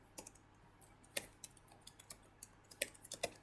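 Light typing on a computer keyboard, scattered soft key clicks at an uneven pace, quiet and close, with no talking.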